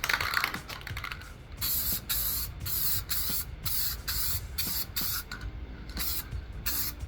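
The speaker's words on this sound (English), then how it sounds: "Now I'm going to apply the second and final coat to the coaster." Spray can bursts misting a second coat onto a slate coaster, a string of short hissing sprays separated by brief gaps, close and fairly quiet with no talking.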